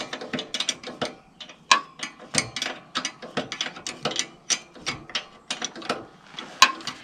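A nut being loosened on a tractor so the front section can come off, heard as a quick series of sharp ratcheting clicks and metallic clacks in irregular bursts, close and fairly loud, with no talking.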